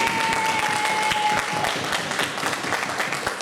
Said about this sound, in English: She really deserves a round of applause